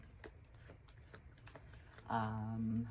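A deck of tarot cards being shuffled gives soft, quick, irregular papery clicks close by, followed by a person beginning to speak.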